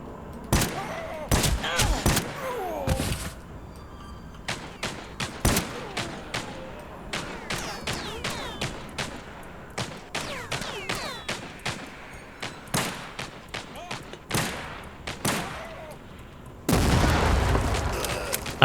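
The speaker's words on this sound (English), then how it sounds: "They're throwing grenades." Grenade explosions and gunfire fill a TimeSplitters Rewind match, rapid sharp shots in dense irregular bursts with heavier booms, ending in a long broad blast of noise.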